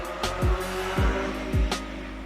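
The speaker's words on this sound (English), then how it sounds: "that's a motorcycle" Three loud vehicle pass-bys in quick succession, each a sharp falling engine sweep at roughly half-second intervals, close to the listener on a street in Japan.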